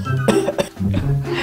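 An elderly man, the grandfather in a spoof of the Tarak Mehta Ka Ooltah Chashmah family comedy, gives a few sharp, close coughs in quick succession, loud and alone.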